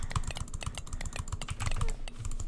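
Rapid mouse clicking spammed during a Minecraft Hive Sky Wars match, a dense, fast, uneven run of sharp clicks close to the microphone that carries on steadily with no talk.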